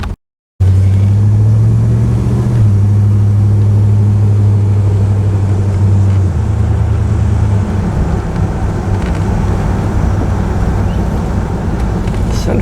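A 1964 Chrysler 300K convertible cruises down a road, its engine a loud, steady low drone that dips and shifts pitch as it changes speed, running continuously with no talk over it.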